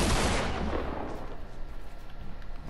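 A double-barrel shotgun blast in a video game, one loud broadband boom at the start that decays into a rumbling tail with no other shots following.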